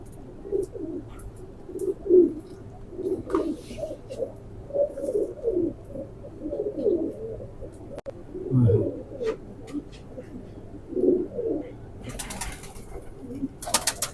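Pigeons of the Lalpari and Jonsery kabootar breeds coo in a low, rumbling series of throaty calls that rise and fall steadily throughout, fairly close, with a louder burst of cooing near the middle and a few faint rustles.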